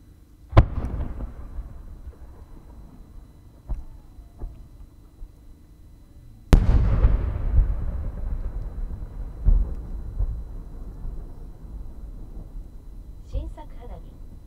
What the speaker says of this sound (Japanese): 新作花火、彼岸花。